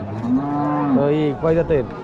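A cow at a traditional livestock market in Kakon, Rajshahi lows loudly and close by in a sustained, drawn-out moo, then gives two shorter follow-up calls, with no talk over it.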